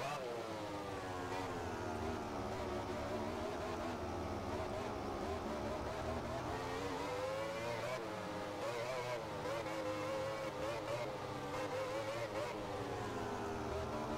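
Motorcycle engine in the MotoGP 15 racing video game, a steady high whine that rises and falls with throttle for the whole stretch, fairly quiet under someone talking in German.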